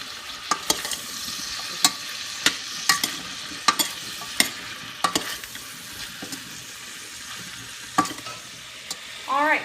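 Mixed vegetables stirred in a hot sizzling pan, a continuous fry hiss punctuated by a dozen or so sharp spatula knocks and scrapes at uneven intervals, close and clear, with no voices.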